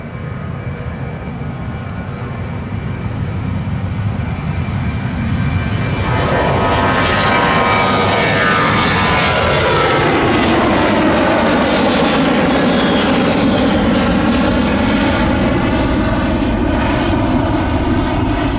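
Aircraft engines roar at Tampa airport during a foggy, sunny morning rush, rising from a distant rumble to a loud, close jet pass with a sweeping pitch shift, steady and unbroken with no talk.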